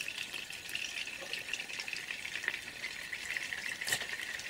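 Beef fat sizzles and fries in about 50 ml of ordinary sunflower oil for plov, a steady close crackling hiss with occasional stirring.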